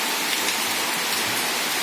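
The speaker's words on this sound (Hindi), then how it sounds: "ये देखिए बहुत तेज़ी से हो रही है बारिश" Heavy rain pours down steadily in the Himachal hills, a dense, continuous hiss with no gaps and no voices over it.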